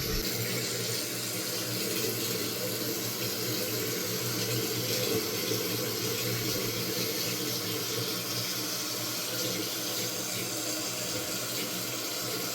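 Toilet flushing after a tank parts replacement, water rushing steadily and loudly through the bowl and tank with no break, a continuous broadband wash close by.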